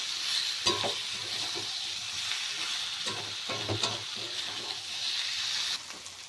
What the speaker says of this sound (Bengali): এবার এটাকে ভালো করে কষিয়ে নিতে হবে